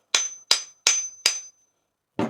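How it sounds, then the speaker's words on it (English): Four sharp, ringing hammer strikes drive a tack hammer head onto its new wooden handle, evenly spaced and close, followed after a pause by a duller knock. "Now I drive the hammer home."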